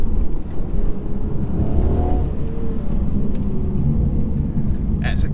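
A 2019 Mercedes C300 with a four-cylinder engine drones steadily while driving, a low continuous rumble with mild rises in pitch and a faint voice over the engine noise.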